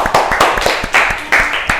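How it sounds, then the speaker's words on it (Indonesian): A small classroom group claps briefly for a student, a short burst of a few irregular, close hand claps that stops after under two seconds. "tepuk tangan untuk Mbak Zain"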